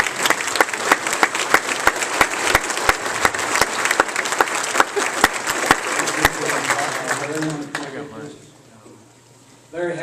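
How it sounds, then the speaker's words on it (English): A convention crowd gives a dense round of applause at a 2014 GOP convention, steady for about eight seconds before dying away into quieter room noise. "Let's hear one more little round of applause for Susan."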